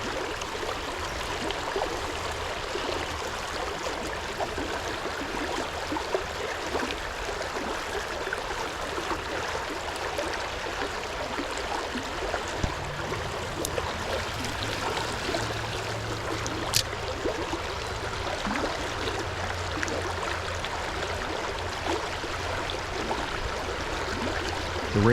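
Low but fast-moving brook holding rainbow trout, rushing and burbling steadily over rocks at close range, an even wash of water with small splashy ticks and no voices.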